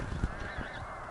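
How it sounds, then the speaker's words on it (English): A few faint honks from geese in the distance, short and scattered over a low outdoor background on a farm. "We got geese."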